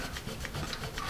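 A pink carnation eraser from Dixon rubs pencil marks off paper in a quick, close scratchy back-and-forth scrubbing, a few short strokes in about a second.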